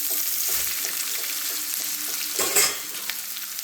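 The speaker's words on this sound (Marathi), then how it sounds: "व्यवस्थित मिक्स करून घेऊया." Poha mixture with finely chopped green chilies is stirred in a pan, giving soft scraping and rustling strokes over a steady sizzle, with one louder scrape near the end.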